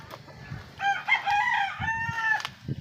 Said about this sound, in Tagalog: may mga alagang manok din dito na pangkatay